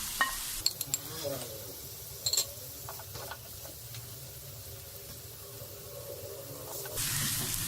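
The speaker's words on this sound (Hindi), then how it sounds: "अब इसमें बंद गोभी जाएगी और शिमला मिर्च दोनों कट्टे डाल देंगे" Carrots, cabbage and capsicum are stir-fried in a pan for chicken chow mein, a quiet steady sizzle with a few scraping stirs and clinks near the start.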